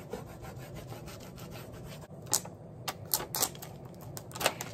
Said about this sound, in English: that noise you hear is the paper against the frame